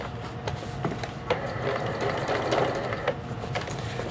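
A Janome sewing machine stitching with its black-button leveling foot, a soft, steady mechanical whir and rhythmic ticking of the needle, moderately close and fairly quiet; no talking.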